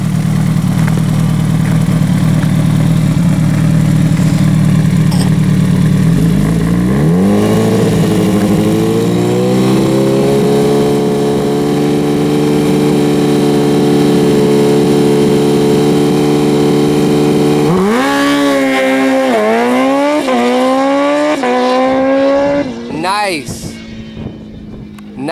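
A motorcycle at a drag racing school launches and accelerates hard through the gears, its loud close engine note climbing in pitch with each shift before it shuts down near the end, and a voice talks over it.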